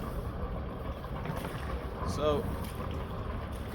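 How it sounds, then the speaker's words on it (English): Strong wind buffets a sailing boat at sea, a steady loud rushing roar with microphone wind noise throughout; a voice briefly speaks near the middle. "whilst the wind is blowing quite strong, it's not horrible."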